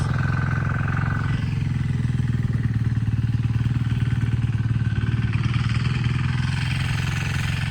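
A mini tractor engine runs steadily in a raspberry field, a continuous low droning rumble close by with a faint high tone early on and no pauses.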